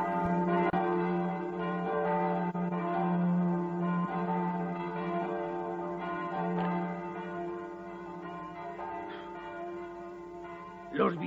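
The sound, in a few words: church bells tolling in Fellini's film Amarcord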